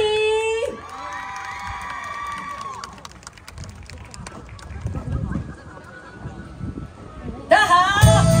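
An audience at a Pili puppetry traditional arts touring show cheers and applauds as a singer is welcomed. The crowd noise swells under a speaking voice and music, then a brighter musical passage enters at the end.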